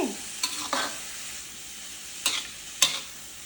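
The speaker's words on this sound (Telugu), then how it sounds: "మనం ఇలాగ బాగా కొంచెం అన్నీ కలిసేలాగా ఇవి ఫ్రై చేస్తే" Sandwich filling being stir-fried in a pan, with a steady sizzle underneath and a few distinct scraping strokes of a spatula, close up and with no voices.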